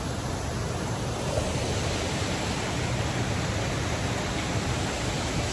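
The Haw River flows steadily, a dense, even rushing wash of water with no rise or fall and no talk.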